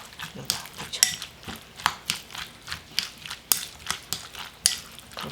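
Seafood being tossed with minced garlic in a bowl for a seafood green-onion pancake, giving a steady run of close, wet clicking and scraping strokes in an even rhythm, with no talk.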